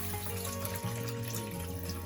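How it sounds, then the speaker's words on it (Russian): Soaked lentils being rinsed under a running kitchen tap, a steady close splashing stream with a hollow tonal gurgle throughout. "Замоченную с ночи чечевицу промываем"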